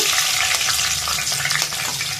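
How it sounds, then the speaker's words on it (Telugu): Green chilies crackle and hiss loudly in hot oil while making okra tomato curry, a dense continuous sizzle heard up close with no voices. "అలాగే మూడు పచ్చిమిర్చి తుంచి వేసుకుంటున్నాను"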